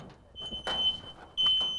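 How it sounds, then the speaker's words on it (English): A photoelectric smoke alarm goes off in a smoke-filled room with the window closed, giving sharp high-pitched electronic beeps in short bursts with brief gaps, loud and close. "the first alarm sounds photoelectric"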